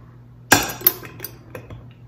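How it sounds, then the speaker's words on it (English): Lid of a home-canned jar of raw-packed chicken breast pried open with a regular can opener: a sharp metallic pop and clink, followed by a second lighter clink and a few faint ticks. "I use a regular can opener and I use this little piece just to pop the lid."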